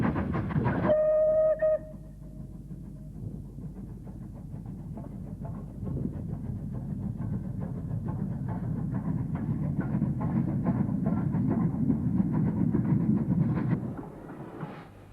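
A West Country Light Pacific steam locomotive passing, opening with a short, sharp whistle blast, then a sustained rumbling roar of the train going by, steady and fairly loud before cutting off abruptly.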